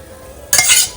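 Taro leaves dropped into hot oil tempering in a pan give a sudden loud hiss and spatter with a quick scrape of the spoon, close and brief after a quiet start.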